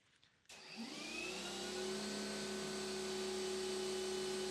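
Battery-powered EGO 350 PSI backpack sprayer starts up after a brief quiet moment and runs at full blast, a loud steady motor whine with a rushing spray hiss that holds constant throughout, with no talking over it.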